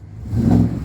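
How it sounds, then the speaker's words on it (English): A Chevrolet Silverado 1500 pickup fitted with a new Walkinshaw full exhaust gives one short, loud rev that swells and then drops back toward idle. "give it a little rev."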